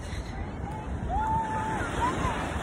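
Ocean waves at a beach, a steady rushing surf with wind buffeting the microphone; a faint whistling tone drifts over the continuous wash.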